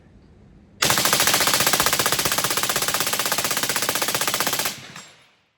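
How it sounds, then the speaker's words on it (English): A forced reset trigger rifle empties a full 60-round magazine in one loud, continuous burst of rapid gunfire lasting about four seconds, with tightly spaced shots, then a brief decaying echo. "I'm trying to do a full mag dump with each one of these 60 rounders just to give it a chance to prove itself"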